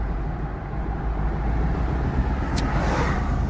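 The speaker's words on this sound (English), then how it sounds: "The El Camino." A 1971-era El Camino car's engine running steadily with a dense, constant rumbling roar, fairly loud and close, at a car show, with no talk over it.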